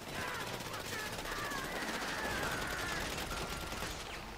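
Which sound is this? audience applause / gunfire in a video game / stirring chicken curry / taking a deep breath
gunfire in a video game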